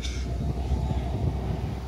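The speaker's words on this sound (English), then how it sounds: "This train goes to the harbor." An Alaska Railroad train heading to the harbor in Anchorage rumbles past, a low continuous rolling drone with faint rail clatter, steady and moderately near over the brief stretch.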